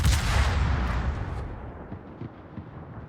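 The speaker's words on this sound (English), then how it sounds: "I'm making use of this island, just firing over the island." Naval guns in a warship video game fire over an island, a heavy boom that rolls away into a long fading rumble, with a few fainter thuds afterwards.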